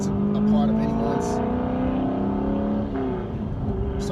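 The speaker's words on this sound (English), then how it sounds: "There's a car in front of me that's really loud" Loud car engine idling and rumbling steadily in traffic just ahead, close and continuous, with a brief rise in revs partway through.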